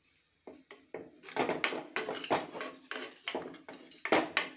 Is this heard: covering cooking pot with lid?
yes